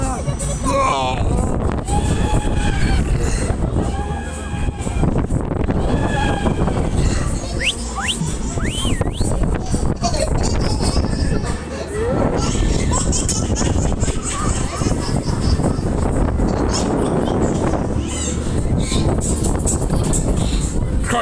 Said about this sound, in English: Crikey, that's a cold wind as well, guys.